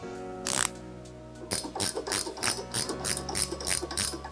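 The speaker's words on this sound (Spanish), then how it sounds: "Con la ayuda de una llave de carraca nos aproximaremos los tornillos hasta que los dejemos más o menos apretados" Ratchet wrench cranking bolts on a tow hitch being fitted to a 2016 Citroën Space Tourer, one short clicking burst, a pause, then a rhythmic series of ratcheting clicks, close up over a faint steady hum.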